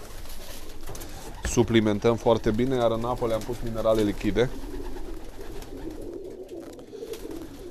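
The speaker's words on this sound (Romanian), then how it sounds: "cam asta fac porumbeii noștri pe vremea asta" Breeding pigeons coo in a loft, a close series of throaty rhythmic coos in the middle of the stretch, while someone talks over them in Romanian.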